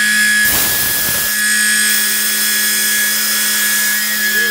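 A Tormach PCNC 1100 CNC mill cutting with a loud, steady high-pitched squeal, a constant machine drone throughout.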